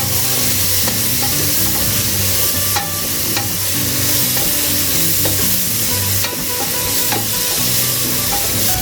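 Mint and coriander leaves frying in a pot, a loud continuous sizzle with regular scraping strokes of a spoon stirring through them, close and steady.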